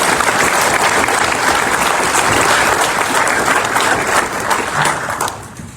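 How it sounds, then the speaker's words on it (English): Audience applause at an annual meeting, dense loud clapping filling the room steadily for about five seconds before trailing off, with no talk over it. "Put a round of applause for these 5 folks."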